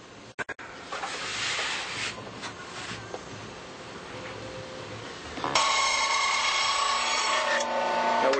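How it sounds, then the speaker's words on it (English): A bandsaw cutting away waste from a wooden block for wing construction, giving a close, steady whirring rasp that grows louder and harsher partway through as the blade bites deeper, with no talking. "Just lopping off as much of the big stuff as we can with the bandsaw"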